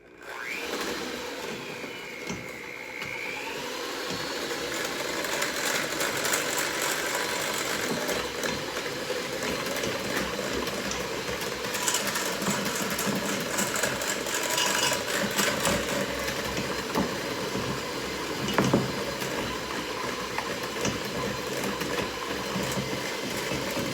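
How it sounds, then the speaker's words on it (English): A kitchen blender runs continuously for about twenty seconds, whirring through blueberry muffin batter made with Kodiak mix, a steady mid-level motor drone after a brief quiet start. "you're gonna blend it again"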